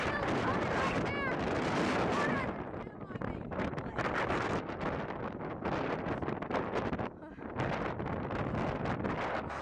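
Strong gusts buffet the microphone outdoors under a stormy, tornado-threatening sky, a loud, rumbling roar that surges and drops in bursts, with people talking and shouting under it.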